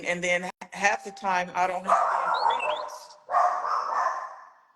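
A dog barks in the background while someone talks over it at home, with visitors at the door; the barks come in short bursts, partly masked by the steady speech.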